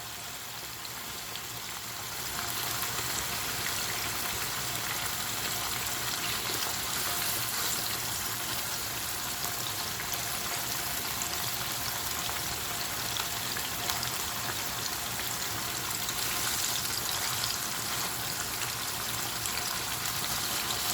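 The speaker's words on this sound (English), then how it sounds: "fry my fish like this." Fish fillets frying in a pan give off a steady, dense sizzle throughout, growing louder after the first couple of seconds and holding evenly with no talking.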